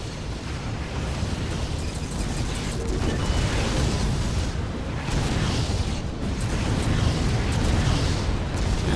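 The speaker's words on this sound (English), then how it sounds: "lots of Klingon ships exploding everywhere" Klingon ships blowing up during a Federation versus Klingon space battle in Star Trek Armada 3. Loud, continuous rumbling explosions and bursts overlap for the whole stretch, with no pauses.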